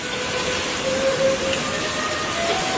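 Steady, close sizzling of food frying in a pan, a dense crackling hiss that holds at an even level throughout.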